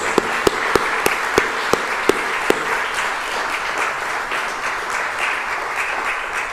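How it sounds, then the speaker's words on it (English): An awards ceremony audience applauds at the ACT Australian of the Year Awards, steady broadband clapping throughout, with a few sharp distinct claps standing out early on. "a round of applause for our 2021"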